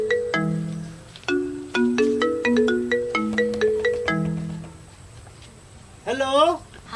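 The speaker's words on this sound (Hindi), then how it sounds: "केकर फोन बजले?" A melodic phone ringtone plays a repeating tune of clear electronic notes, loud and close, followed by a brief warbling burst near the end.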